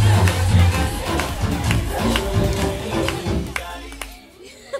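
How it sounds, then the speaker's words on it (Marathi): A crowd claps and cheers after a children's stage dance performance, a busy mix of hands and excited voices that thins out and fades toward the end. "टाळ्या वाजवा, टाळ्या वाजवा"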